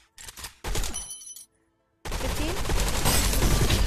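Uzi fire in the video game Gun Raiders comes as rapid bursts, with a short burst, a longer one, a gap of silence, and then a dense, sustained spray of automatic shots to the end.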